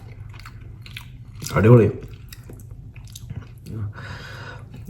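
Crunchy bites and chewing of fried fish close to the mouth, a loud bite followed by softer chewing, with a voice speaking briefly in between.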